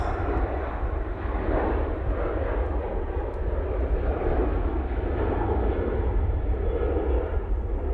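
An Air France airliner thunders down the runway at Manchester Airport on its takeoff roll, a loud, steady, broad engine roar holding constant from start to finish.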